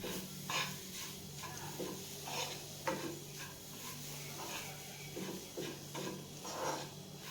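Grated beetroot is stirred into gram flour in a bowl, giving soft, faint scraping and mixing strokes in an uneven rhythm, close up against a steady low background hum with no talk.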